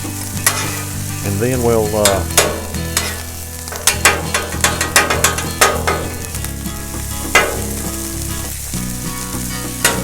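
Fried rice sizzles steadily on a Blackstone flat-top griddle while a spatula scrapes and stirs it in repeated strokes, with someone briefly speaking over the frying.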